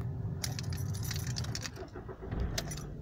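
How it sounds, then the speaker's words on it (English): Keys jangle in the ignition of a 2001 VW New Beetle as the engine is started, with metallic clinks rising over a steady low engine rumble close by. "Okay, let's start the engine."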